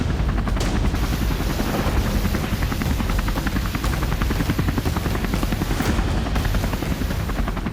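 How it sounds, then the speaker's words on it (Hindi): AH-1Z Viper attack helicopter in flight, a loud, steady rotor chop with rapid rhythmic blade thumps throughout, close and unbroken with no voices. "ये है अमेरिका का AH-1Z वाइपर अटैक हेलीकॉप्टर।"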